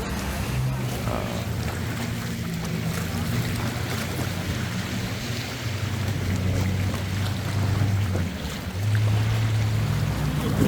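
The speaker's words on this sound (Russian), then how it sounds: "это очень шумно от водных мотоциклов" Jet skis roaring on the sea off an Albanian beach, a steady loud engine drone with rising and falling whine as roughly ten craft race about, mixed with wind buffeting and surf.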